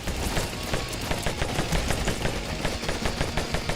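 Revolver shots from Vampire Hunters ring out in a steady, rapid string of sharp cracks over a dense, loud wall of game noise, with no pause across the stretch.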